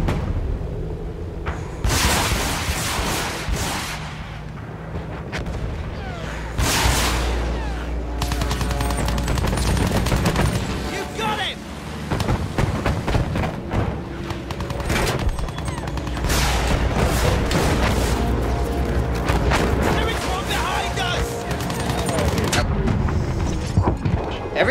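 Anti-aircraft flak guns firing in a Battlefield game, with continuous heavy booms and rattling bursts of gunfire throughout and voices talking over the combat.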